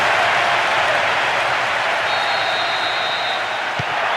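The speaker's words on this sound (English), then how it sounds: "you can hear the relief from the crowd" Stadium crowd in PES 2008 on PS2 roaring after a late opening goal, a steady broad wash of cheering and applause at constant loudness, with a brief whistle-like tone partway through.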